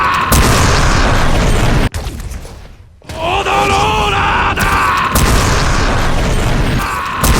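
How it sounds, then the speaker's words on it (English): Dio's Road Roller attack from JoJo modded into Overwatch 2, with loud booming crashes and grinding impacts, a sudden drop to near silence, then a rising tonal whine before the heavy pounding returns, under game voice shouts. "Then I absolutely needed to add Dio's Road Roller attack."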